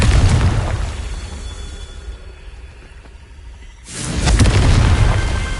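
A Confringo fire spell explodes in Hogwarts Legacy, with a loud, rumbling blast at the start that fades to a quieter lull before a second heavy burst erupts near the end.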